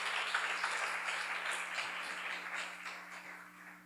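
A church congregation at a Korean sermon seminar claps together, a dense wash of applause that fades gradually over about four seconds, with a steady low electrical hum underneath.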